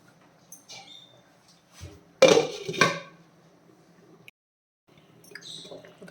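A short metallic clatter as a lid is set onto a pot of crab curry on a low flame, with quiet kitchen background before and after.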